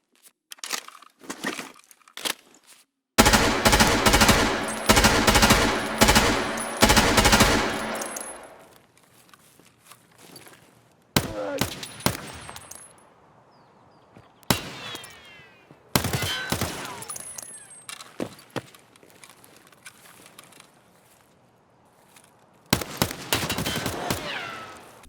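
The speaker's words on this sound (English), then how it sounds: "Then there's the sounds for all the different weapons in the game." Gunfire from assorted weapons in the video game Escape From Tarkov: loud bursts of automatic fire alternating with single sharp shots and echoing tails, separated by short silences, with no talking.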